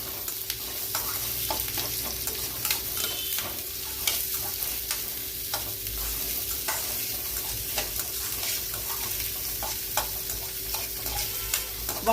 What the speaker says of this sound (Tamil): இது கொஞ்சம் நல்லா வதங்கணும்.